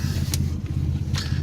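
A turbocharged Chevrolet S10 V6 with a five-speed idles steadily up close, a slow, lopey low rumble with a faint rhythmic pulse and no voices over it.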